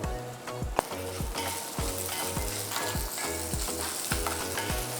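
Peeled small shallots fry with cumin in a pan for tamarind curry, a steady close sizzle broken by regular scraping stirs, with no voices.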